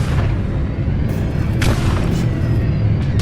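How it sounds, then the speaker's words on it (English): An enemy missile launches in a video game, a loud, continuous booming rumble with heavy low-end thunder and brief crackling bursts on top. "Enemy missile fired."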